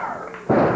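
A wrestler slammed hard onto the ring mat at a Memphis wrestling event, a single loud, close thud after a brief stretch of crowd noise.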